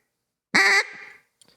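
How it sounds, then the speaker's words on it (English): A hard, loud single quack blown on a duck call, with a sharp nasal attack that tails off quickly, followed by faint clicks in an otherwise silent room. "a lot of people blow quacks like a"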